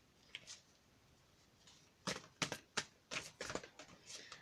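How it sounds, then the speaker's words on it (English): Large tarot cards being shuffled: soft, faint papery riffles and slaps in a quick irregular burst of about a dozen flicks after a mostly quiet start. "I have to shuffle here behind the camera."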